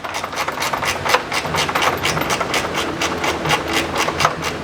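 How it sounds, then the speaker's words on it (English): A ratchet spanner loosens and backs out a roof rack bolt on a Rhino-Rack Backbone, giving a steady run of fast, close clicking and rasping strokes at a fairly even rhythm with no talk. "You can see why the ratchet spanner's handy"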